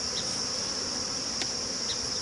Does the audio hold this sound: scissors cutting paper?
no